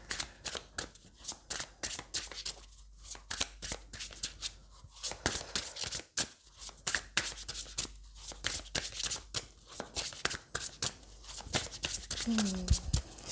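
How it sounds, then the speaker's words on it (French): Tarot cards are shuffled in a rapid series of crisp riffling bursts and soft slaps, close and fairly quiet, repeating steadily across the stretch with a brief squeak near the end. "Je prends le temps de bien mélanger les cartes."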